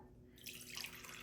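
Water splashes and trickles into a measuring cup set on a flat surface, a soft, close pour that starts quietly and rises into a brighter rushing stream.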